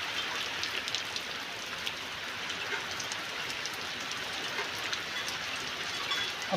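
Steady rain falls in Lilapur village, Halvad taluka, a dense, even hiss of drops on surfaces that runs unbroken and fairly close, with no distinct thunder standing out.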